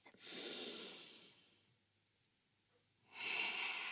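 A yoga instructor takes a slow, deep breath in, pauses briefly, then begins a long airy breath out, close and soft with no speech.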